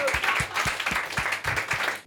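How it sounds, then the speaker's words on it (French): A small group applauds loudly at close range on a Bordeaux dating show set, dense clapping with a steady rhythmic beat of heavier claps running under it throughout. "on applaudit bien fort ça."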